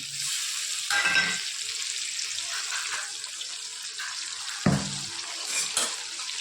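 Water splashes into a hot pan, setting off a burst of hissing sizzle that settles into steady frying with a few stirring scrapes.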